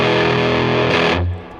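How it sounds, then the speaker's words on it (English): An electric guitar played through an overdrive pedal rings out as a thick, sustained distorted chord, ending with a brief higher burst before the sound drops away. "So it's a good overdrive that has a few options that sort of other pedals don't really have."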